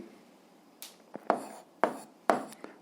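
A pen scratches across paper in a few short, distinct strokes at close range during an 8th-grade algebra exercise, with quiet pauses between the marks and no speech over them.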